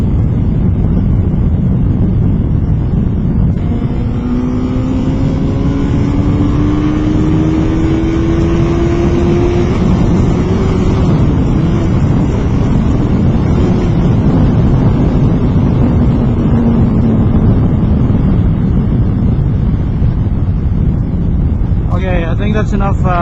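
2008 Yamaha FZ1 motorcycle at high speed on the road, a loud continuous engine drone with rising gear pitch under heavy wind rush throughout.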